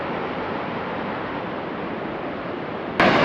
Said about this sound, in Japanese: あ、なんか滝みたいになってる。